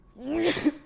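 A single short sneeze indoors, close and fairly loud, with a brief voiced rise and burst of breath, no other sound around it.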